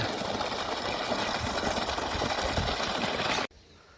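A 3000W BLDC pump motor on a 300-foot, 2-inch borewell runs at 2700 rpm, giving a steady, dense mechanical whir that continues evenly and then cuts off abruptly near the end.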